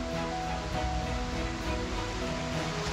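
A mountain river rushes steadily at a ford in Val Grande, a continuous close wash of flowing water with no voices.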